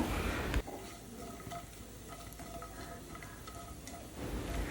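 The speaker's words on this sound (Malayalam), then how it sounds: "ഞാനിവിടെ തേങ്ങാക്കൊത്ത് മാത്രമാണ് ചേർത്ത് കൊടുക്കുന്നത് അപ്പോൾ അത് ഒന്ന് മൂപ്പിച്ചെടുക്കാം" Coconut pieces fry in a pan with a steady, soft sizzle and crackle, occasionally stirred, close and fairly quiet throughout.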